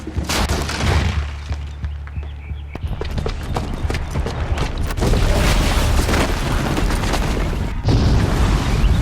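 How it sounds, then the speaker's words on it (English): A booby-trapped bomb goes off in Horizon Zero Dawn, a loud sustained rumble of blasts and crashing debris with a fresh surge of booming near the end. "the booby trap on the bomb downstairs is gonna get set off"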